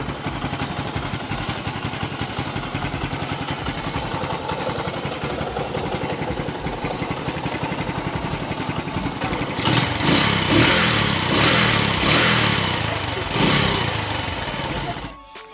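A motorcycle engine idles steadily with a low, even rumble, then revs up louder for a few seconds before settling and cutting off.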